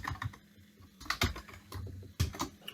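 Rapid clattering keystrokes on a computer keyboard, coming in short bursts with brief pauses between them, close and fairly quiet, with no talking.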